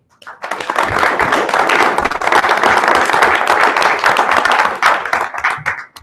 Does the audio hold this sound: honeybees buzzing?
no